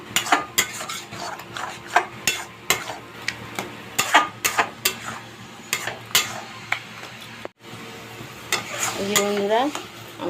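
Greens being sautéed and stirred in a pan, with repeated sharp scrapes and clanks of a spoon against the metal over a steady sizzle, close and fairly loud, and a brief pause near the end.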